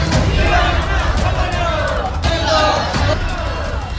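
A crowd of village women carrying empty pots on their heads shouts slogans at a district collectorate, a loud continuous roar of many voices with yells rising over the babble.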